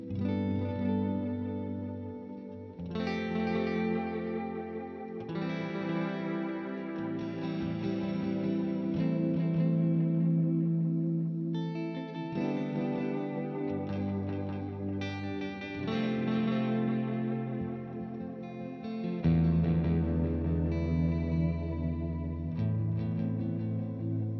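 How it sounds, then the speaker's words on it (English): A guitar runs through the Cosmos space echo effect on a Line6 HX One pedal, with sustained distorted chords and notes trailing into repeating echoes and washy reverb, played alone for over twenty seconds. "So that was your space echo."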